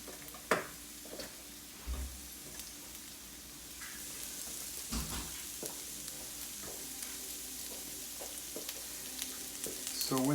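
Onions frying in olive oil in a hot pan for onion jam, a continuous close sizzle and crackle broken by several stirring clatters and knocks, growing a little louder toward the end.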